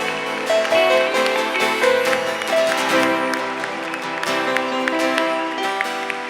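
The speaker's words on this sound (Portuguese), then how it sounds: "Aplauda Jesus bem forte." A church congregation applauds at a conference service, with dense, sustained clapping across the room that fills the whole stretch steadily, over a background of music.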